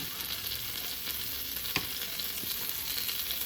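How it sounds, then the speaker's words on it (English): Eggs fry in a hot skillet with a constant faint sizzle and a single sharp scrape as they are flipped, and no one speaks. "So as y'all can hear, this dang skillet done got hot. I'm just flipping these bad boys."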